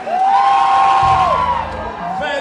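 A concert crowd in Łowicz screams and cheers loudly with whoops and shouts, a sustained roar of many voices close around, with a rising wave of yells and crowd noise throughout.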